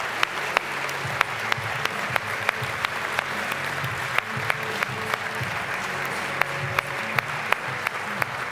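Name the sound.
applause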